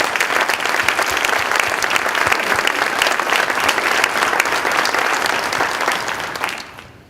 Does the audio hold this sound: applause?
yes